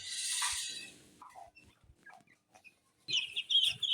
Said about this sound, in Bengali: মুরগিগুলোকে ব্রাহ্মা মুরগি এগুলো গেটের মধ্যে রেখে দিছি